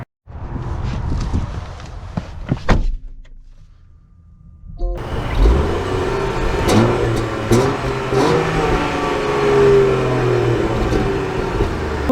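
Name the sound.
Range Rover Sport inline-six engine driving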